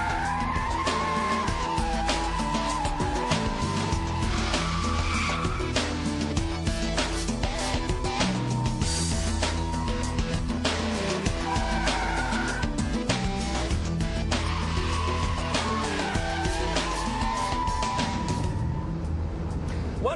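A rear-wheel-drive BMW Z3 power sliding in a wide circle, tires squealing in long wavering wails over a loud, steady engine roar that keeps going the whole time, with faint talk underneath.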